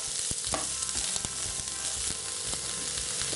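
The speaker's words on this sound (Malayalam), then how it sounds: "ഇനി ഇതിലോട്ട് നമ്മൾ എടുത്തു വെച്ചിരിക്കുന്ന സവാള ചേർത്ത് കൊടുക്കുകയാണ്." Onions and green chilies sautéing in a pan, a steady close sizzle with scattered stirring scrapes and clicks, no voices.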